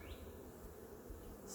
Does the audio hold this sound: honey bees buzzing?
yes